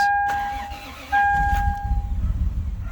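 A car engine cranking and catching after a dashboard chime rings, then settling into a low, rough, close idle rumble.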